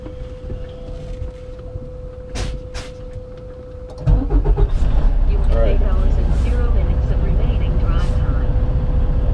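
A truck's diesel engine cranks and starts back up partway through, settling into a loud, steady idle rumble after a quieter stretch of background noise.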